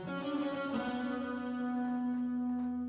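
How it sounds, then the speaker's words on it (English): Soft, sustained guitar outro from a produced rock track, ringing chords layered with effects that hold steadily and slowly settle, no voices present. "Last thing that we add is a kind of light outro guitar that sounds like this."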